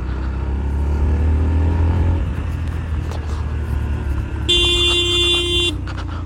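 A Yamaha FZ-S FI V4 150 cc motorcycle engine runs with a steady, close low rumble throughout, and a sustained horn blast sounds near the end.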